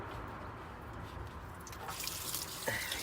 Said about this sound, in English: we'll just let this all drain out. It'll probably just be really rusty water.